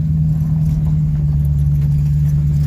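A pickup truck engine idles on its own with no throttle, a steady low rumble that runs unbroken and close throughout.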